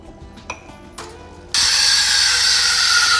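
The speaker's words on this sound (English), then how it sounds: "So you can hear our milk is now stretching." Breville BES980 espresso machine steam wand stretching milk for a latte: a few faint mechanical clicks, then a loud steady hiss starts abruptly and continues to the end.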